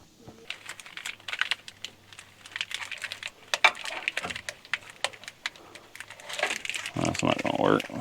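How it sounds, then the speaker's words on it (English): Zip ties being fastened while mounting an in-bed 7-pin plug for a gooseneck hitch, giving a series of quick ratcheting clicks and plastic ticks in bursts, with rustling handling noise and a louder scrape at the close. "These little zip ties they give you ain't long enough for nothing."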